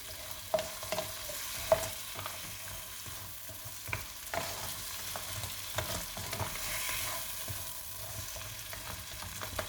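Crab pieces sizzle and crackle in hot oil in a pan for Sri Lankan crab curry, with frequent irregular spatters and occasional stirring scrapes over a steady close frying hiss and no voices.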